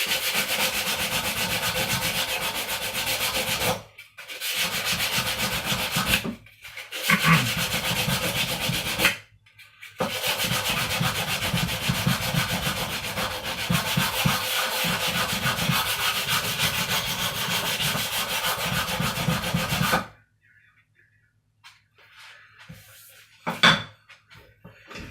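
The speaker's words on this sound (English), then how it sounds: "I think this is a P80 grit sandpaper." Rough P80 grit sandpaper scrubs steadily across a rusty axe, a loud, continuous rasping broken by three brief pauses, then stopping into near quiet with a few faint taps.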